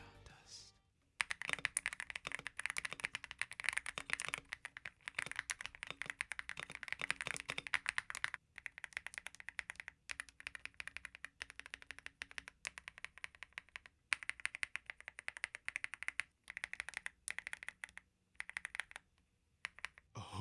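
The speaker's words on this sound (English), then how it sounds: "the keyboard comes equipped with 5 layers of sound dampening for those who are looking for a silent typing experience" Rapid, continuous typing up close on a Gravastar Mercury K1 Pro 75% keyboard with five layers of sound dampening, a dense clatter of soft clicky keystrokes with brief pauses, no voices.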